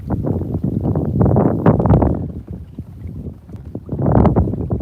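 Strong wind buffets the microphone outdoors in heavy, fluctuating gusts, loud and close, with no voices.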